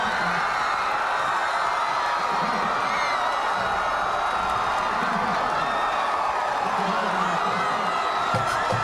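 A stunned crowd of more than 80,000 at Tiger Stadium during the 1997 Ole Miss–LSU football game reacts to an interception, a steady broad roar of murmuring and scattered shouts filling the whole stretch.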